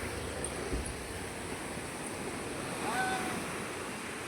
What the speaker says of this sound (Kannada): ಸಮುದ್ರದ ಸೌಂಡ್ ಯಾವ ತರ ಕೇಳಿಸುತ್ತೆ